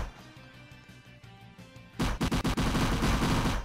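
Rapid gunfire erupts midway through a Roblox bunker zombie game, a loud burst of closely spaced shots following a quieter stretch of game music and ambience.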